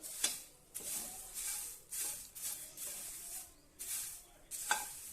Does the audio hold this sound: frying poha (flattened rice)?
yes